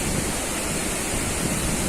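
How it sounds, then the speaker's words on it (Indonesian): The Kedabuhan waterfall roars as a dense, constant wash of falling water, loud and unbroken across the short stretch with no voices. "air terjun Kedabuhan."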